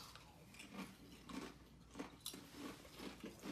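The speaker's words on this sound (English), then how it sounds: "Them bitches crunchy as hell." Hawaiian barbecue-flavored potato chips are crunched close up, with several quiet bites and chews in an uneven rhythm and no talk.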